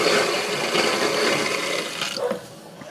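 Water runs steadily from a motorhome faucet pushing pink antifreeze through the lines during winterizing, a continuous hissing splash at close range that drops off sharply near the end.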